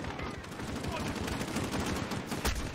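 Rapid, continuous automatic gunfire in the Call of Duty Modern Warfare campaign, a dense rattle of shots throughout, with a sharper crack near the end.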